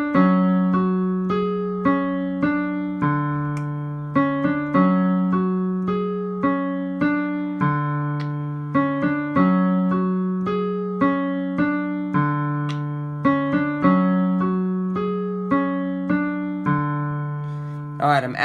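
Piano plays a song with both hands, a syncopated bass line under a repeating right-hand pattern, in steady, evenly spaced chords at moderate volume with no talking.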